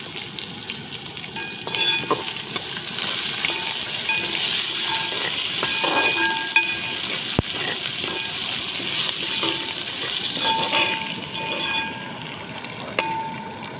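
Chopped ginger sizzles and fries in hot oil in a pan while curd rice is being made, a steady close crackle with a few faint clinks and stirring sounds.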